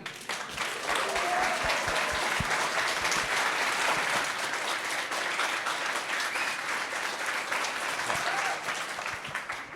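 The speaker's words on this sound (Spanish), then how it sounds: "A ver, aplaudid." An audience applauds after a short film screening: dense, steady clapping holds for nearly ten seconds and then thins slightly near the end, with no voices rising above it.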